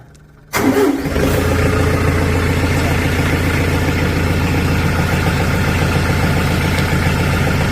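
A used International 48 hp tractor engine starts with a sudden loud catch, then settles into a steady, close, rhythmic diesel idle that continues alone without talk.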